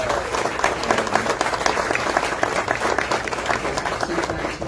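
Audience applause at a ribbon cutting ceremony: a sustained, fairly loud round of clapping from a crowd that continues evenly and tapers slightly at the end, with no talking over it.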